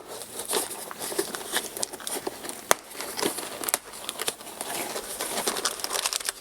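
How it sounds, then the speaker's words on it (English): A plastic bag crinkles and rustles steadily while an LED clock kit from Banria is unpacked from its box, with scattered sharp crackles and one louder snap partway through. "Plastic bag"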